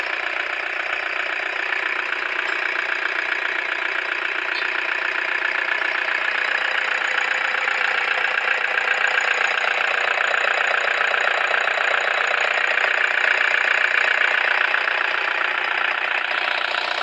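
A Toyota Hi-Ace commuter van engine runs at a steady, even idle throughout, loud and close with a constant mechanical hum and fine ticking rhythm, no voices.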